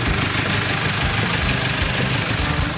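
A car engine idles with a steady, rough low rumble and faint knocking, close up, no voices.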